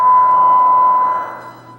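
Serato Scratch Live control vinyl playing its timecode signal through a DJ mixer's phono channel, a loud, steady high-pitched tone with a faint low hum beneath it, fading slightly toward the end.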